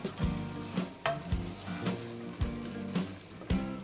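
Food seasoned with salt and pepper is stirred in a sizzling pan before rice goes in, with scraping strokes repeating roughly every half second over a steady fry and a faint tonal hum underneath.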